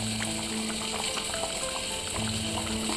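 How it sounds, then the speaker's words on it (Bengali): A thin fish curry gravy with young rohu, vegetable stalks and potato bubbles steadily in a pot, a continuous close simmering burble with no talk. "দেখতেই পাচ্ছ ঝোলটা টকবক করে ফুটে উঠেছে"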